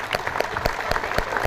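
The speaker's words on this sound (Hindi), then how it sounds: "चलो एक बार जोरदार तालियां।" Seminar audience in Ahmedabad claps loudly in a brisk, uneven burst of many hands, close and full throughout the short stretch.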